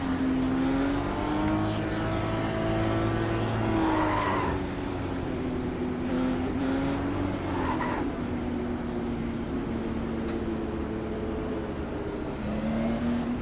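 A race car in the iRacing video game spins out and crashes on the warm-up lap, its engine droning and shifting pitch while tires skid and scrub for a long continuous stretch, loud and close without any talking.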